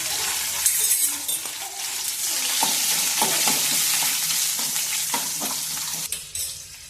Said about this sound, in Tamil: இப்போ வெங்காயமும் பச்சை மிளகாயும் வறுபட்ட பிறகு